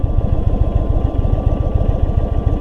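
A 2022 Indian Super Chief's air-cooled motorcycle engine idles close by with a loud, steady low throb and an even, rapid pulsing beat.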